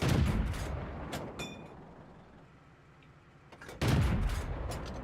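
Tank cannon fire in the World of Tanks video game, with a loud booming burst at the start and another heavy blast near the end, separated by a quieter rumbling stretch.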